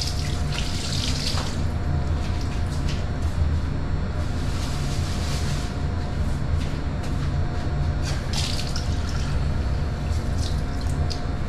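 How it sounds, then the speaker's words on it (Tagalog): Water poured steadily into a cooking pot of salted food before boiling, a continuous close splashing rush with no talk. "lagyan natin mga kaloko ng tubig."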